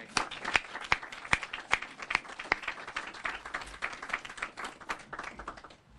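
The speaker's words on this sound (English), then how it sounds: "Let's give the community accomplishment a round of applause today." Sparse outdoor clapping from a small crowd at a community wildlife habitat celebration in Gulley Park, Fayetteville, Arkansas, with distinct individual claps in an uneven rhythm, fairly close and moderately loud.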